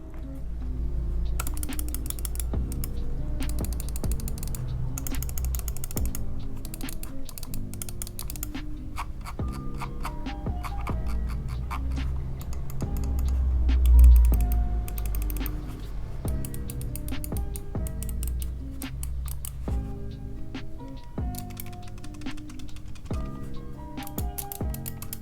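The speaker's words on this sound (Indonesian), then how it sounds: "ini dia mouse clickiness-nya" Rapid, continuous clicks from a Logitech G304 SE wireless gaming mouse rattle on and off throughout, crisp and close, with no talking.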